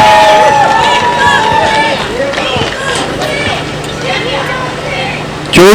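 Crowd cheering and shouting at an outdoor election campaign rally for a Gyeongbuk education superintendent candidate in Andong, a dense hubbub of many voices that stays loud throughout.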